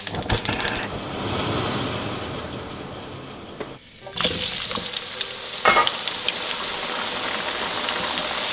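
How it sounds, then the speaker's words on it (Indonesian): Shrimp and petai beans fry in hot oil, a steady close sizzle and crackle running throughout with occasional stirring scrapes and no talk. "Goreng udang sama pete ini teman-teman"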